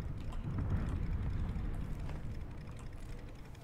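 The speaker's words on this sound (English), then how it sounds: "Why am I still hearing an active running car?" A car engine idles in the battle royale game PlayerUnknown's Battlegrounds, a low continuous rumble that holds steady, then eases slightly toward the end, faint and distant with no other sounds.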